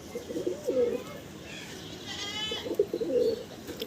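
Large Murshidabadi pigeons coo in low, throaty rolling phrases near the start and again at the end, with a faint higher trill in between.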